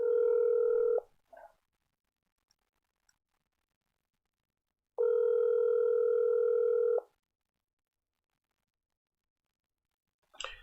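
A telephone line tone plays while a caller is called back: a steady buzzing tone lasts about a second, silence follows, then a longer two-second tone, with faint clicks and no voices.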